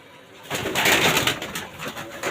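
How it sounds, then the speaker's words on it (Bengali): A loft of about 150 racing pigeons fills the air with a dense, close chorus of cooing and fluttering. It swells after a quiet start and carries on without speech. "প্রায় দেড়শো পিসের মতো কবুতর আপনারা দেখতে পাচ্ছেন এই কবুতরগুলো"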